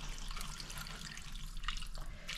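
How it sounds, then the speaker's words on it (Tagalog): Water is poured into a cooking pot in a home kitchen, heard as a quiet continuous splashing and trickling with a few drips, faint and without talk. "Tapos buhusan natin ng tubig."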